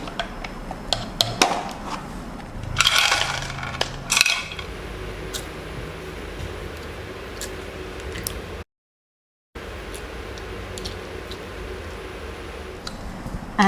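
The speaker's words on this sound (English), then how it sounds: "So let's put the ice." Ice cubes clink and rattle into a glass for an iced pink milk drink, a few sharp knocks and tinkles early on, then quieter background with brief clicks.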